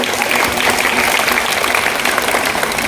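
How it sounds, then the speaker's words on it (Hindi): Loud, continuous applause from a crowd at a school prize-giving ceremony for students, the clapping dense and steady throughout. "चलिए जोरदार ताली बजाइए।"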